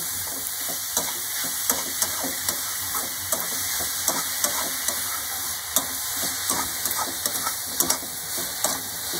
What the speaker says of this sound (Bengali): চিনিটাকে দিয়ে আমি খুব ভালোভাবে গাজরের সঙ্গে নেড়ে নেড়ে মিশিয়ে দেব।